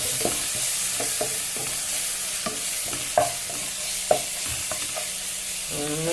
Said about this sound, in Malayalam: ചതച്ചിട്ട് വെളുത്തുള്ളി ഇതിലേക്ക് ഇട്ട് കൊടുക്കുന്നുണ്ട് ഇതൊന്ന് കുറച്ചൊന്ന് ചൂടാട്ടെ